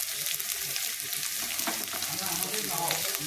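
Frying in a pan gives a steady close sizzle and crackle, with soft scraping from stirring mixed in, continuous and fairly quiet with no one talking.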